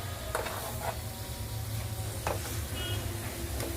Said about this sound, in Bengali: দেখুন, মশলাটা আমি কষাচ্ছি